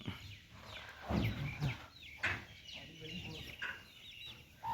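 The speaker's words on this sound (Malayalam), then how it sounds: "ഫുള്ള് കോഴിയാണ്" Chickens cluck and squawk in short bursts nearby among coconut palms, several birds calling over a quiet outdoor background.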